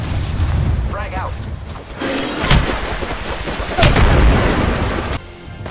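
Frag grenade blasts and gunfire in the Apex Legends battle game: several heavy booms and bursts of shots over a busy background of game noise, with a voice present in the mix.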